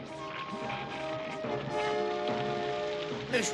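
Heavy cartoon downpour from The Smurfs, a dense, continuous hiss of rain hitting surfaces with a musical score layered over it throughout.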